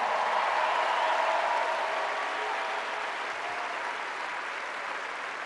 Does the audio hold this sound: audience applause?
yes